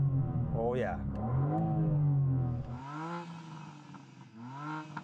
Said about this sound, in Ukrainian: Зараз трошки газану.